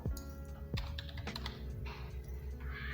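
Quick, irregular clicks of typing on a computer keyboard, close and fairly quiet, running steadily for a few seconds with no voices.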